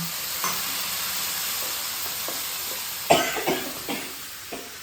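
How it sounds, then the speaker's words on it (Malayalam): A short cough bursts out near the end, followed by a few smaller throat sounds over a steady background hiss of frying. "ചുമയാണ്"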